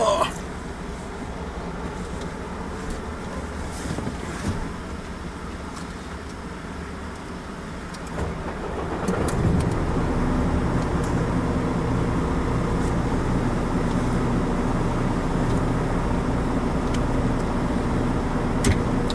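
A truck engine rumbles at idle, then swells louder as the vehicle pulls away, with a steady, heavier drone continuing through the rest of the stretch.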